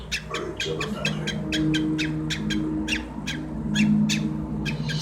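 Female cockatiel peeping during a mating dance, a rapid rhythmic series of short, sharp, close-up peeps repeating steadily over a low background hum.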